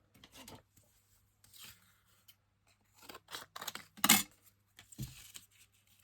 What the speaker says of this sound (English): I cut this down a bit.